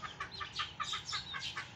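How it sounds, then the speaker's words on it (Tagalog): Chickens cluck in quick, repeated bursts, a busy rhythmic clucking close by with no talking. "Yung manok."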